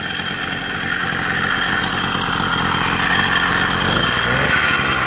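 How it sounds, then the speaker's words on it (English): A homemade motorized bicycle engine buzzes steadily and loudly at close range for the whole stretch, a constant raspy small-engine drone with no pauses. "we turned a bike into a motorcycle."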